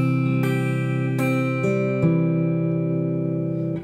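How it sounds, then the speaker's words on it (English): Acoustic guitar fingerpicked in a Love Someone chord pattern, the thumb and fingers plucking individual strings that ring together in a clear, close arpeggio with a few distinct note attacks and sustained tones, with no talking. "So I'm plucking string number 5 and number 4 with my thumb, string number 2 with my second finger,"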